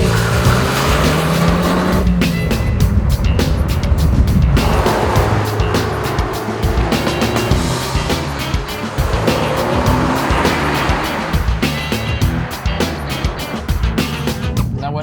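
A Peugeot RCZ R road car drives hard, its loud engine note rising and falling with gear changes and steady road and tyre roar throughout, with no talk over it.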